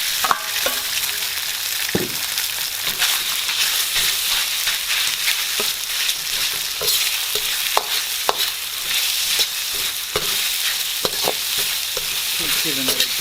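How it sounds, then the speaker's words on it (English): Beef sizzles steadily in a pan of hot oil for a ginger and shallot stir-fry, with frequent scraping clicks from a utensil stirring the meat close up throughout. "I've added a couple of tablespoons of oil, and firstly we want to cook our meat first. So in goes our meat."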